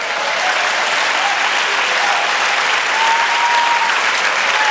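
A church congregation gives sustained applause during a sermon, a steady, dense wash of clapping that holds at an even level from start to finish, with no voices standing out.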